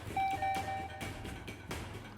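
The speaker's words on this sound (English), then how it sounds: "Suddenly, a doorbell began ringing frantically." Doorbell ringing frantically in the Higurashi When They Cry Hou+ visual novel, several quick repeated electronic chimes in succession over a soft background.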